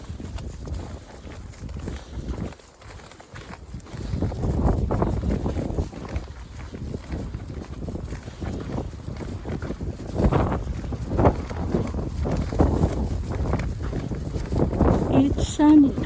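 Gusty wind buffets the microphone on a sunny street in Takasaki, Japan, a low rumbling roar rising and falling in surges throughout.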